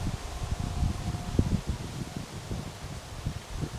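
Wind blows outdoors at night in the countryside, a low rumbling buffet against the microphone with a faint rustle, steady and close, no voices.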